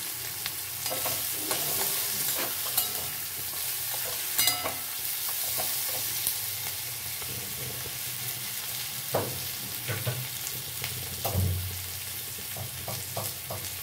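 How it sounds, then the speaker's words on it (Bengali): Chopped onions frying in hot oil in a pan: a steady, close sizzle with occasional spatula scrapes and clicks as they are stirred. "এবার পেঁয়াজটা এর মধ্যে দিয়ে দিলাম।"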